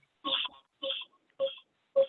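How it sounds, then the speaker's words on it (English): A telephone dialing into a video meeting: four separate tone bursts at an even pace, clear and isolated against silence, with no talk. "here comes the phone"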